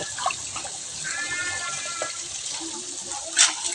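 Water sprays and hisses steadily from a hole in a rusted water pipe under a brief murmur of voices, with a sharp splash near the end.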